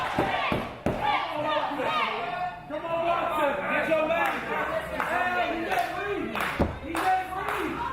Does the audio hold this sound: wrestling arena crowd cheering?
yes